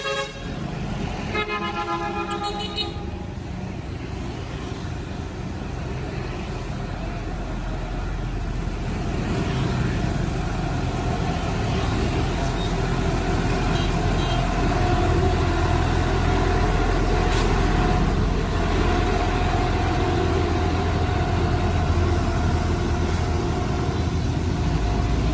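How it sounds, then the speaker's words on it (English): A watering truck idles with a steady low engine rumble throughout, its horn tooting in a few short, clear blasts near the start. "watering truck."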